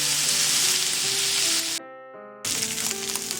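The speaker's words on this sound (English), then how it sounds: "cook the sausage for about 3 minutes" Chicken sausage sizzles loudly in a pan over medium heat, a steady bright frying hiss that cuts out briefly midway, then resumes just as strong.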